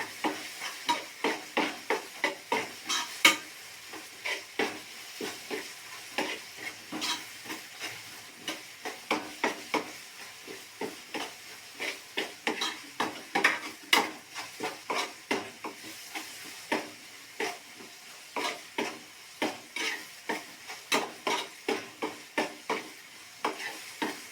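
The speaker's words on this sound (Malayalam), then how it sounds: "നമ്മൾ ഇഞ്ചി വെളുത്തുള്ളി ചതച്ചിട്ടേക്കാണ്" Crushed ginger and garlic fry in a pan while being stirred briskly, a dense run of rhythmic scraping strokes over a steady sizzle, close and continuous, with no voices.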